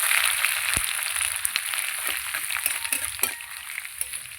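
Ginger and spices frying in hot oil as a tempering for moong dal with katla fish head, a steady close sizzle with a few small clinks and stirring knocks on top.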